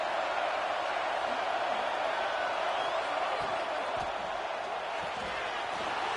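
A stadium crowd at the Peach Bowl, Alabama against TCU, roars in a steady, dense wash of cheering on third down, loud and continuous from start to finish.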